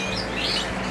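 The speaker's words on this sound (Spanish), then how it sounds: "Todos estos jilgueros están unidos con los canarios" Goldfinches and canaries chirping together in cages: a steady, busy wash of bright high twittering from many birds at once, with no pause.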